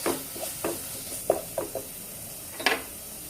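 A spoon stirs mutton kabsa masala mixed with tomato sauce in a pan, making a series of short scraping knocks over a quiet low sizzle.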